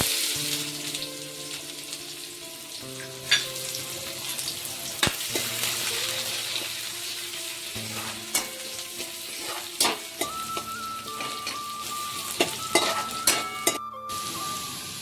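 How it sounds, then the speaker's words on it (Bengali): Chopped onion sizzles loudly in oil with tempered whole spices for a ridge gourd masoor dal. A continuous crackle is broken by repeated sharp clinks and scrapes of a spatula stirring in the pan. "ফোড়ন আমাদের ভালো করে ভাজা হয়ে গেছে, পেঁয়াজ দিয়ে দিচ্ছি"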